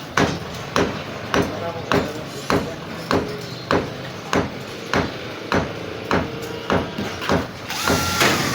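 A brushless battery drill with no carbon brushes works overhead on a ceiling, giving a steady run of regularly spaced sharp bursts about every 0.6 seconds, loud and close.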